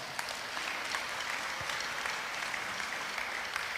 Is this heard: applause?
yes